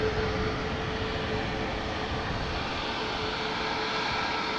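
A TUI Boeing 737 Max 8 jet at Amsterdam Schiphol gives off a steady, even engine roar with a faint tonal whine, unbroken throughout.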